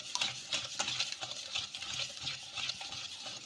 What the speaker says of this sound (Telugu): ఇలా ఉప్పు వేసేసుకొని ఒకసారి బాగా కలిపేసుకుందాము